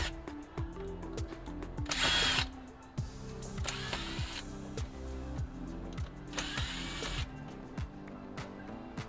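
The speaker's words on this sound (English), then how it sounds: "we're going to take off the same screws as we did on this one" A power drill drives screws out of a Pentair EasyTouch pool valve actuator in several whirring bursts, separated by softer clicks and handling noises close by.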